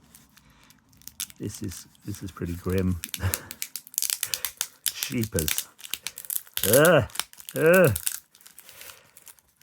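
Sellotape being peeled and torn off a parcel, crackling rips and crinkles in short bursts, close to the microphone, interleaved with someone talking.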